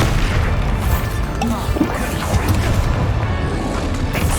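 Spell combat in Hogwarts Legacy, with loud booming blasts, crashes and bursts layered over a constant dense game mix of effects and music.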